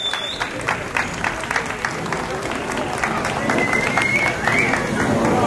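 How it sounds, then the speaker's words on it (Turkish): Audience applause at a box show event in Antalya, steady crowd clapping for performers coming on stage, filling the whole stretch with dense, fairly loud claps, some crowd noise and a voice over it. "Çok kıymetli alkışlarınızla."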